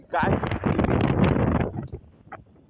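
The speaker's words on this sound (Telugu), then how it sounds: "ఆ గాలి సౌండ్ వినిపిస్తుంది కదా" Wind gusts across a hostel rooftop viewpoint, buffeting loudly and fairly close for about two seconds before easing to a softer rustle.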